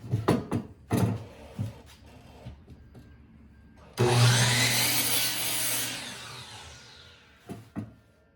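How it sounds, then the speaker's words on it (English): A chop saw trims the corners off a wooden piece for outdoor patio furniture, opening with scattered knocks and handling sounds, then one loud sustained cut of about three seconds that slowly fades, followed by a few more close taps. "saw, and I'm gonna just nick those corners off a little bit"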